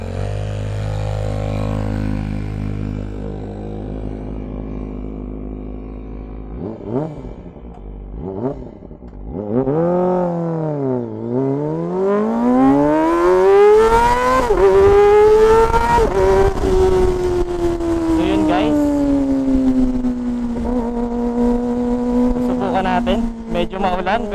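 A Kawasaki Ninja ZX25R sport bike and a loaded Yamaha Aerox scooter race on a rainy street, engines revving and climbing through repeated sweeping pitch rises, loud and close, with voices talking over the roar.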